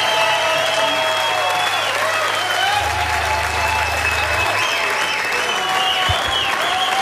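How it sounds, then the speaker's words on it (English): Audience applause after a live acoustic rock set by Slash with Myles Kennedy at The MAX Sessions: loud, sustained clapping with scattered whistles and cheers, continuing steadily from start to finish. "Another round of applause because that was just..."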